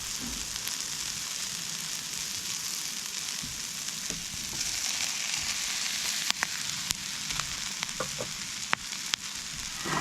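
Beef and broccoli stir-fry sizzles steadily in a pot, a continuous loud hiss with a few sharp clicks of stirring toward the end.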